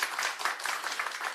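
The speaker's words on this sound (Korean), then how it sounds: "모두 큰 박수 부탁드립니다." An audience at a political party's meeting with police officers in Chilgok gives a brief burst of moderate applause with steady, overlapping claps.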